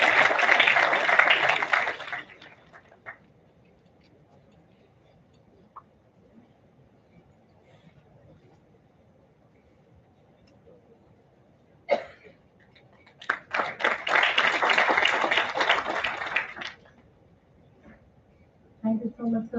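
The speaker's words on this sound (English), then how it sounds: "Let's have a huge round of applause for sir as well." Audience applause at a B.Tech orientation ceremony, a short burst at the start and a longer round later, moderately near, separated by a quiet stretch with only faint room noise.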